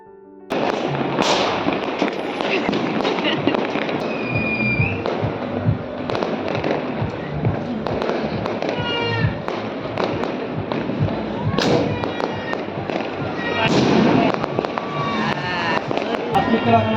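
Leftover Kali Puja firecrackers and fireworks burst all around during Uttarayan (Makar Sankranti) celebrations in Ahmedabad, with loud repeated bangs near and far, some crackling, and people talking between them.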